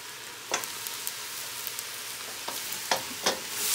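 Chicken soup vegetables seasoned with salt and black pepper are stirred in a pot, giving a soft sizzle with a few scattered scrapes and clinks from the utensil, close and quiet with no talking.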